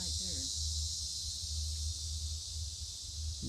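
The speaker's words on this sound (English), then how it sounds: "The insects are coming to life too." Swamp insects keep up a dense, steady high-pitched chirring drone throughout, with a low rumble and faint outdoor noise underneath and no speech.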